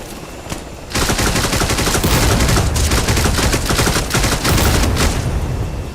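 Rapid, dense gunfire from a helicopter-mounted minigun in the video game Dagger Directive, a loud continuous rattling burst that starts after a short lead-in and keeps going, with a few punchy impacts layered in.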